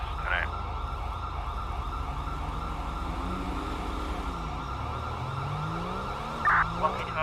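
An ambulance siren in GTA V wails continuously, its pitch sweeping up and down at a steady distance, fairly loud and dominating the scene with only faint other sounds.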